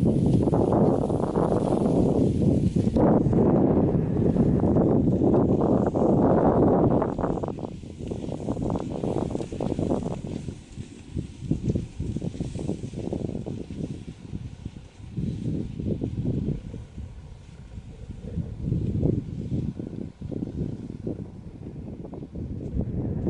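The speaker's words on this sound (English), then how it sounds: "windy out here today." Steady winter wind buffeting the microphone outdoors in the Boundary Waters, a loud rumbling roar at first that eases into gusty, fluctuating rushing.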